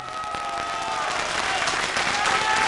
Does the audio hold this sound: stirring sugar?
no